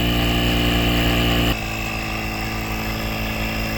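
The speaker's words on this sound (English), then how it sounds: "hit the air pump, and I started my watch, and we'll see how long it takes to pump up this completely flat tire" A VEVOR 12-volt car air pump runs loud and close while inflating a completely flat car tire, a buzzing motor drone that shifts to a slightly lower, more pulsing tone partway through and keeps going steadily.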